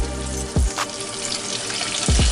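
Chicken frying in hot oil crackles and sizzles steadily up close, with a couple of heavier low thumps from the pan or stirring.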